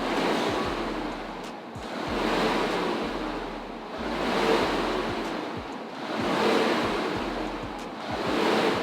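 Aviron rowing machine worked at its lowest resistance setting, producing rhythmic whooshing air swells that rise and fall with each stroke, about every two seconds, with soft low thumps underneath and no voices.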